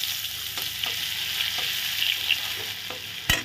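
Grated ginger sizzling in a spice tempering of bay leaf and cumin, a close, even frying hiss with a few faint spatula scrapes and one sharp clatter near the end, no voices.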